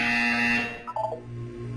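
A harsh electronic buzzer in the video game Portal 2 sounds once, loud and close, about half a second long, then cuts off into a short tonal blip and a low hum.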